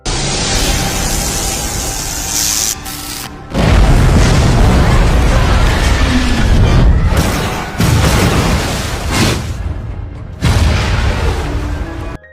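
A car blows up in the 2012 shark thriller Bait 3D, heard as loud roaring blasts and rumbling bursts of noise that surge and drop several times over dense, sustained debris and fire.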